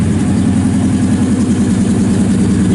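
A 1965 Pontiac GTO with a 389 engine, four-speed and dual splitter exhausts idles close by, a loud, steady, deep burbling rumble that holds evenly throughout with no voices.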